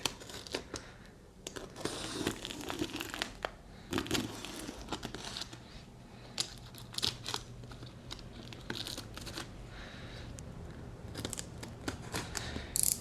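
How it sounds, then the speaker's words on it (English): Packing tape being cut on the box of a Victron MultiPlus Compact inverter-charger during unboxing, with close, scratchy slicing, tearing and crinkling bursts in irregular strokes, no talk. "Gonna cut the tape."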